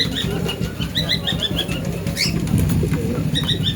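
Pigeons sold as guaranteed fliers in Salar, Murshidabad, flutter and shuffle close by, with soft wing flaps, scratchy movement and faint repeated chirps over a low rumbling background, no voices.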